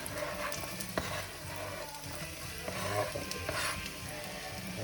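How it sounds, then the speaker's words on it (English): Chopped brown onion sizzles and crackles in hot olive oil in a pan, a steady, fairly quiet frying hiss with occasional stirring scrapes and pops throughout. "Listen to that sizzle."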